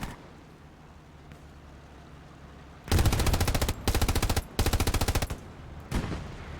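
Bursts of machine gun fire in the Hell Let Loose shooter game, three long rapid rattling volleys and a short final burst, loud and close after a stretch of quiet background rumble.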